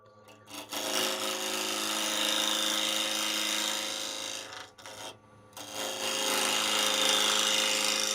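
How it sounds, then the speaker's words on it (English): A bench grinder in a shop spins down after being switched off, a steady whirring rasp that runs on at length, with a brief dip and catch partway through before it continues. "watch the grinder take forever to slow down and quit running"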